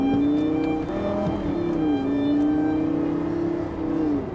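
Lamborghini Gallardo supercar with a 560-horsepower engine in sport mode, its exhaust droning loudly and steadily with a rising and dipping engine note, close and alone without talk.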